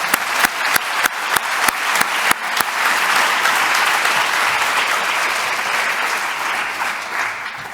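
Audience applause at the closing session of a workplace health summit, honouring agency staff: a few sharp separate claps quickly swell into steady, dense clapping from a large crowd that holds evenly to the end.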